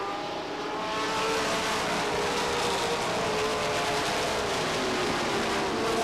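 Stock cars racing at Beech Ridge Motor Speedway in an ACT Coca-Cola 150 event, a loud, dense, continuous engine roar from the pack that swells slightly and holds steady, with no talk.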